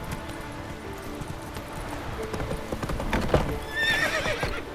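Roach the horse in The Witcher 3 gallops with rapid, rhythmic hoof clip-clops, then gives a loud, wavering neigh near the end.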